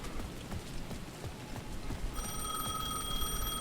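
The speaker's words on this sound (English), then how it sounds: "The payphone at the edge of the plaza was ringing again." A payphone rings in the video game Alan Wake 2, a steady electronic bell tone with a sharp onset partway through and then sustained, over a continuous rain-like ambient wash with no talk.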